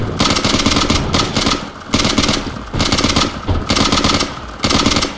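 Sustained bursts of automatic gunfire in the blocky shooter Ace of Spades, loud and close, coming in several long rattling volleys with short gaps between them and no voices.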